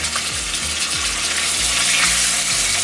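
Beef stir-frying in very hot oil in a pan, a loud, steady sizzle with scraping strokes of stirring repeating through the burst, no voices over it.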